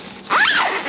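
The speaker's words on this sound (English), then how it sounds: "So if we're gonna close the zipper" A zipper closes along the flap of a blow-up tent in one quick, loud, close pull that lasts under a second.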